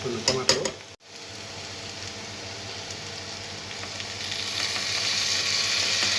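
Tomatoes drop into okra frying in a pan, with a few clatters and a brief thump first, then a steady close sizzle that builds gradually.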